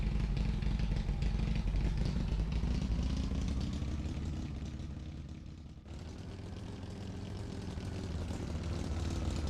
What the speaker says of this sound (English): That engine sounds like it was recorded inside of an empty room